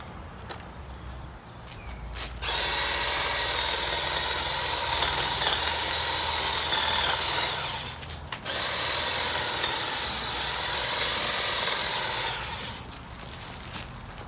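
A Ryobi or Craftsman cordless hedge trimmer cuts through branches in two long bursts of buzzing, rattling blade noise, close and loud, with a short pause between them and quiet stretches before and after.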